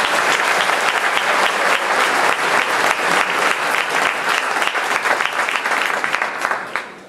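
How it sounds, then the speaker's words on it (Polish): A concert audience applauds a children's folk song and dance ensemble performance, with dense, steady clapping throughout that stays loud and full before easing slightly at the end. "Wielkie brawa dla naszych małych artystów."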